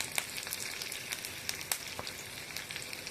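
Garlic, green chili and curry leaves fry in hot oil, giving a steady close sizzle dotted with sharp pops and crackles and no talking.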